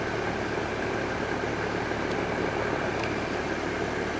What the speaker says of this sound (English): There's a sound in that motor that makes me question the bearings.